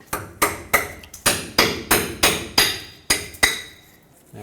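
Close, sharp metallic taps loosen stuck sway bar bushing brackets on a 2009-2014 Ford F-150. About eleven crisp strikes fall at a brisk, slightly uneven pace, each ringing briefly before the next.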